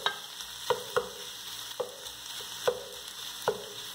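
Bacon cooking in a pan for a cassava broth, with a steady sizzle under repeated sharp clinks and scrapes of a utensil stirring, about five distinct knocks spread across the stretch, no talking.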